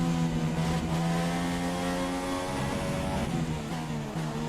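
A Formula 1 race car in a racing video game, on the Bahrain circuit, its engine holding a loud, steady high-revving whine with layered harmonic tones and slight pitch shifts through the whole stretch.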